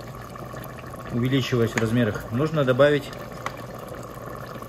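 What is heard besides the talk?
boiled water being poured over rice for plov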